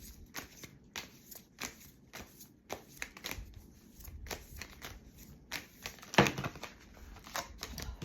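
Deck of cards being shuffled by hand, a quick series of soft riffling flutters and slaps repeating close by, fairly quiet with no talk.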